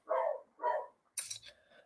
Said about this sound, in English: I apologize for my dog being loud in the background.